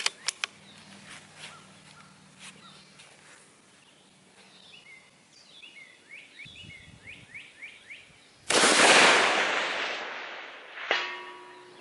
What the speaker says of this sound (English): So that was shooting at the very bottom and it still hit.